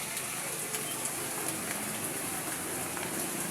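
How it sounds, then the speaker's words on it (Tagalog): Heavy typhoon rain from Nando, with habagat monsoon winds, pours in a dense, unbroken hiss that stays loud and constant from start to end, with no talking over it. "Malakas pa rin po ang ulan at saka habagat."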